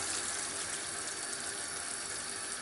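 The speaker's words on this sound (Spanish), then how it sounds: "Ahora le añadimos el agua" Water poured into a pan while making pickled mackerel, a steady, soft splashing gush with a bright hiss, fairly quiet and continuous, no talking over it.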